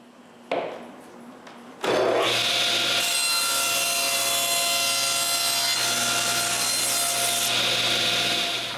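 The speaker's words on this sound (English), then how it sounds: "After each cut, I turn the piece over and make another cut." A sliding table saw with a sled cuts through plywood: a short motor whine at first, then a loud, sustained high-pitched cutting roar as the blade passes through the sheet.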